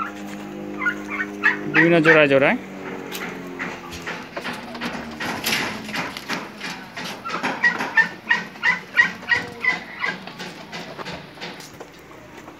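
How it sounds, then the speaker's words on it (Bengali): Turkeys kept in separate coop compartments on a turkey farm gobble in rapid repeated bursts, loud and close, with a brief spoken phrase over the early calls. "বিভিন্ন খোপ সিস্টেম করে আলাদা আলাদা দরজায় তার্কি চাষ করা হয় এখানে"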